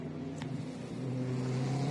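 A GT3 race car engine in the China GT Championship at Qinhuangdao, a mid-distance engine tone holding steady and then building as it accelerates, with no commentary over it.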